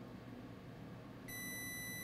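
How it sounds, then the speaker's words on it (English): A multimeter in diode mode beeps on a shorted laptop board, giving one continuous tone that starts partway in and holds steadily over quiet background noise. "And are we gonna hear a beep?"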